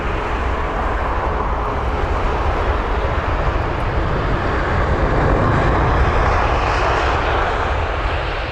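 Emirates Airbus A380 airliner landing at London Heathrow, a loud continuous broadband engine roar that holds steady and swells slightly toward the end, with no talk over it.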